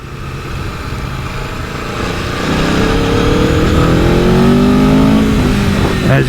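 An Italian sports touring motorcycle with Superbike-derived power accelerates hard, its engine note climbing steadily and loud and close from a steady drone to a rising roar, with no talking.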